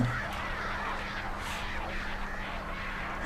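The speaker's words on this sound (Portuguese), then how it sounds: "Tem um bocado de corvo ali, ó." Crows caw in the Alan Wake video game, a few harsh calls scattered over a dense, continuous ambient wash of wind and noise. There is no speech.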